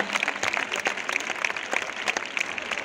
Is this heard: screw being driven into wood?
no